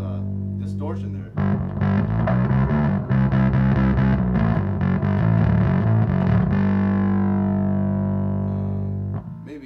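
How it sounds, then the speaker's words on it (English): Heavily overdriven bass guitar through an Acoustic B300C 15-inch bass amp, thick and fuzzy with gritty distortion, played in a quick run and then held as a long sustained note that fades. "Now that's just a lot of distortion there."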